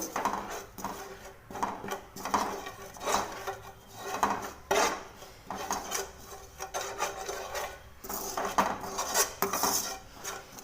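A spoon stirs garlic sev mamra with a little chutney and salt in a pot, making repeated close scraping and clinking strokes in an uneven rhythm for about ten seconds, with no voices.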